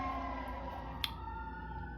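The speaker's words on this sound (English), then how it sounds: "we're just gonna wait for that siren to decide to pass by" A wailing emergency vehicle siren drifts in from the street through an open window, a steady tone over constant outdoor hum, with one brief sharp click partway through.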